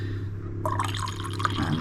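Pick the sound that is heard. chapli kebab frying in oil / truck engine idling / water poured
water poured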